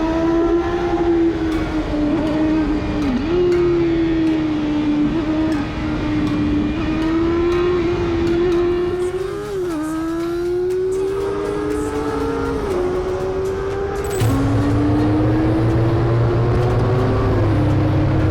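A BMW R1250R naked motorcycle with a boxer engine is ridden, its steady engine drone running close and loud, climbing and dropping through several gear changes with no talking.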